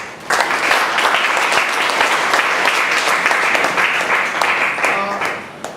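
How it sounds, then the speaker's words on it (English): A large audience gives a dense, sustained round of applause that starts abruptly, holds steady for several seconds, then thins and tapers off near the end. "A huge round of applause once again"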